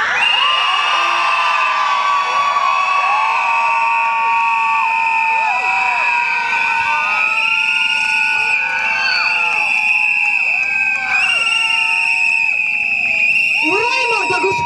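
A large crowd at a women's solidarity protest against femicide shouts, screams and cheers loudly and continuously, with shrill high cries and overlapping voices filling the whole stretch.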